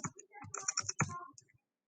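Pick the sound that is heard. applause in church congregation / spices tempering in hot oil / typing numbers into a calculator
typing numbers into a calculator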